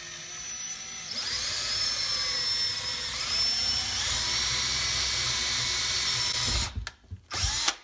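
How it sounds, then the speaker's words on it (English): A power drill whines steadily at close range for several seconds, drilling a hole through a cabinet door from the face side, then cuts out and sputters to a stop. "You always, always, always drill from the face or outside in."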